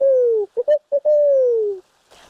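A person's voice imitates a barred owl hoot: two long descending hoo calls framing a quick run of short clipped hoots, loud and close with no other talk.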